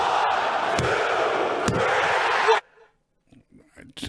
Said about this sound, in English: it sounded like it was, packed to the brim for WrestleMania with just how loud and raucous this crowd was